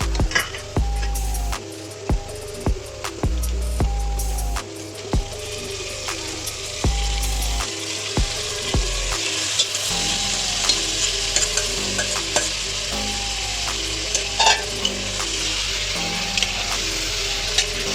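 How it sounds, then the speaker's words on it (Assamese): Chicken for lemon chicken sizzles steadily in a hot pan while a spatula stirs and scrapes with intermittent knocks, close and continuous. "বহুত ভাজিব লাগিব"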